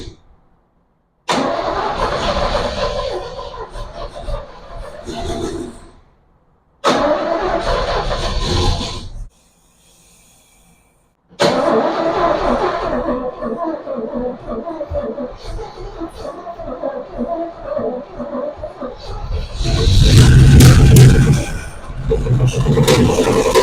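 A 1967 Chevrolet Bel Air station wagon, left sitting for over 30 years, cranks in several bursts separated by silences, then fires and runs with a loud, steady mid-pitched engine note that swells near the end.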